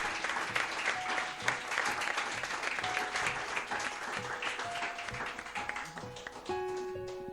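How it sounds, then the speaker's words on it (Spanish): A church congregation claps during a Spanish-language worship service, steady dense applause with rhythmic group clapping, while sustained musical tones from keyboard or organ rise underneath toward the end. "Aplauda el nombre del Señor."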